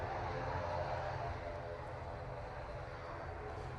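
An Emirates Airbus A380-800 lines up on runway 05 left at Manchester Airport: a steady, loud, broadband jet engine roar with a deep low rumble, holding constant and easing slightly in level.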